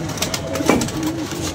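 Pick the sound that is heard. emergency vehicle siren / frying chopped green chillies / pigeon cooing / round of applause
pigeon cooing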